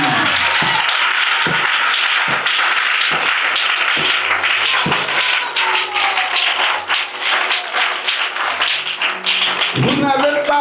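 Congregation in a lively church worship service cheering and applauding, a dense wash of clapping and shouts with taps and voices throughout, loud and sustained across the whole stretch.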